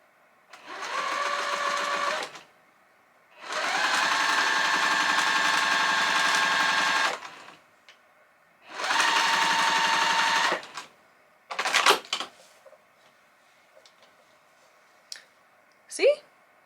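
A sewing machine stitches a strip of quilt sashing to a pieced block: three loud, close runs of rapid whirring stitching separated by short pauses, followed by a few scattered mechanical clicks.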